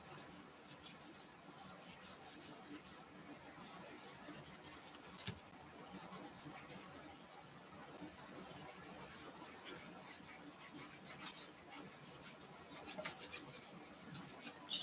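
Red paint dry-brushed by finger onto a white Valentine's craft piece gives soft, scratchy rubbing strokes in quiet, uneven bursts close to the microphone, with no talking.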